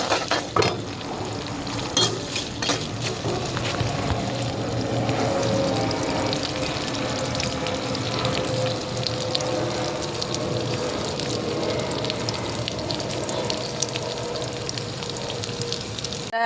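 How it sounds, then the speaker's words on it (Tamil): Onions with salt sauté in a pan with a constant close sizzle, broken by frequent scrapes and clinks as they are stirred. "நெக்ஸ்ட் வந்து உப்பு அதுவும் சேர்த்துட்டு இப்போ வந்து நல்லா வதக்கி விட்ருங்க"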